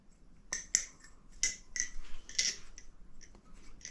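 A Nabalis Impulse balisong knife being flipped, its handles snapping and clicking in a quick, uneven series of sharp, close ticks with no talking.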